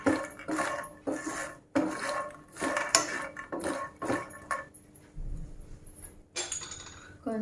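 Makhana (fox nuts) are stirred in a pan over low heat, with repeated scraping and clinking of a utensil against the pan in rhythmic strokes, a short pause, then more stirring.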